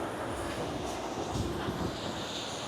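Strong wind blowing at a busy beach in Berawa, Canggu, Bali, a steady loud rushing buffet across the microphone with no talking.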